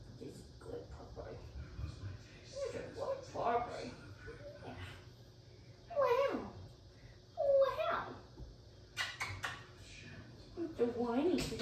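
A puppy on a leash-training outing whimpers and whines in several short high-pitched bursts, close by and moderately loud, with people talking softly between the cries.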